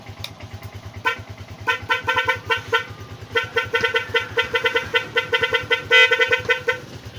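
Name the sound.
motorcycle horn being tested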